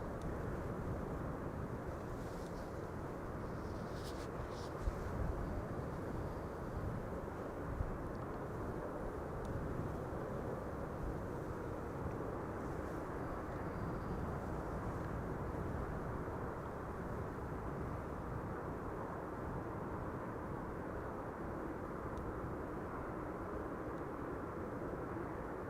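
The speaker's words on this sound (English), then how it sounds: "Ryanair 737 flight 3100 arriving from Dublin," A Ryanair Boeing 737 airliner arrives from Dublin, its engines a faint, steady distant rumble that holds evenly throughout, with a couple of small clicks.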